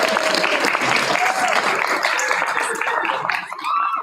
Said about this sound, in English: Let's have a thundering round of applause.